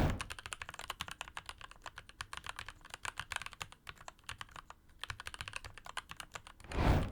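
Fast, steady typing on a keyboard with ABS or polycarbonate keycaps gives dense, clacky keystrokes close up, ending in a louder thump.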